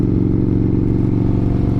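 Motorcycle with a Crusher exhaust idling or running close by, a loud, steady, throbbing low rumble with a fast even pulse, with no talk over it.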